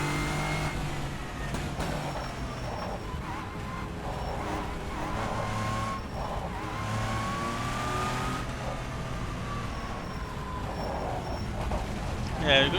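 A hypercar engine in the racing sim rFactor 2 drones steadily and shifts pitch as it revs up and down through the gears, with a voice talking over it throughout.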